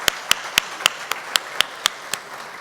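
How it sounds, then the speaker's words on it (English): A handful of people clap sparsely for scholarship donors at a college scholarship brunch, about ten crisp separate claps in a steady loose rhythm, close and alone with no talk. "please can we give our donors a big round of applause"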